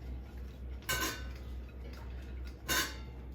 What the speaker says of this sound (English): Give them a little bit of a mix around with a spoon. You're managing with the wooden spoon, okay?